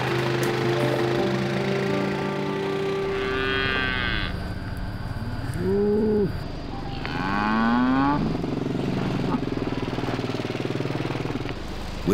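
Dairy cows moo at milking time on a farm, several long, loud lowing calls rising over a constant mechanical engine drone from the milking machinery.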